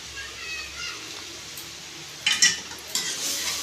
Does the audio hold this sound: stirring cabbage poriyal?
yes